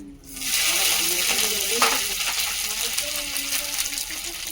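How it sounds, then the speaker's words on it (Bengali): Green chilli frying in hot oil with bay leaf and grated ginger bursts into a loud sizzle right at the start, then settles into a continuous crackling hiss that fades slightly. "লঙ্কাটা ফুটতে একটু টাইম লাগে তো লঙ্কাটা একটু ভাজা ভাজা হোক তেজপাতা আদা কোরা"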